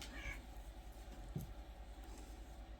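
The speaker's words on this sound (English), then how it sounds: "Can you hear my cats?" Two cats fighting: a short meow and a brief yowl over a steady low hum, fairly faint and somewhat distant.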